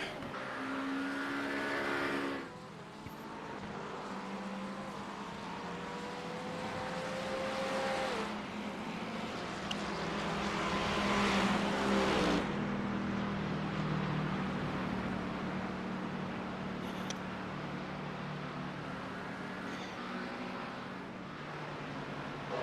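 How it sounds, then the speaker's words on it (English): Race car engines at the Spa 24 Hours in a racing game, a sustained roaring drone with pitch shifts as cars accelerate and pass, loud and close at first, then a broad steady engine wash. "There's a car approaching."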